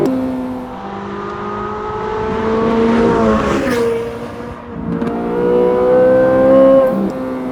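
Chevrolet Corvette C8 Z06 engine pulling hard uphill, a loud, steady engine note climbing and easing through gear changes, with a brief lift around the middle before building again, close and continuous with no talk.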